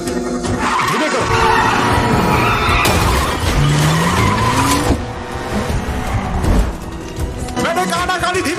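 A car driving fast with its tyres squealing and skidding, loud and close, runs for several seconds over a rough engine and an agitated score, while voices speak now and then.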